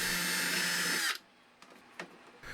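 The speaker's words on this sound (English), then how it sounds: "one side was slightly misaligned, so I drilled it out to a slightly larger hole" A power drill whines steadily for about a second while widening a misaligned screw hole in a model airplane wing, then cuts off, followed by a few faint knocks.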